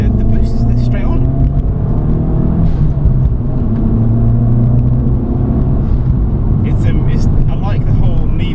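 An Abarth 500 hatchback pulls hard under turbo boost, its engine drone and rumble steady and close throughout, with occasional voices talking over the cabin noise.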